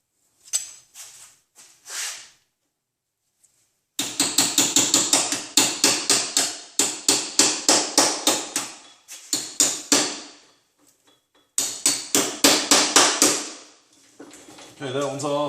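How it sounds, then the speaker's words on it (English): A putty knife is hammered under spot welds while salvaging a 2013 Honda Accord EX-L. Close, sharp metallic strikes come in rapid rhythmic runs, separated by short pauses and quieter single taps. "Probably have to run the putty knife into the top of the other 2 or 3 of them"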